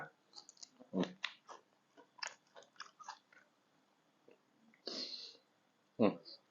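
Close, crunchy chewing of grilled pork intestine eaten with a spicy jaew dipping sauce, coming in separate bites and bursts with short pauses between them and soft mouth noises.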